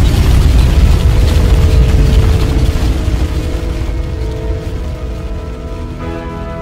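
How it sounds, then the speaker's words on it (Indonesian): A deep, roaring hypernova explosion sound effect fills the space, loud and sustained, slowly fading as it trails off. "Bintang akan runtuh oleh gravitasinya sendiri dan meledak menjadi hypernova."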